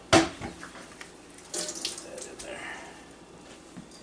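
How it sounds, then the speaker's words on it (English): Tap water runs and splashes over a vacuum HEPA filter being rinsed in a sink, with a sharp knock at the start, uneven spattering and handling noise, and a brief spoken word. "It rinse most of the dirt off, so I just do this as kind of a rinse deal."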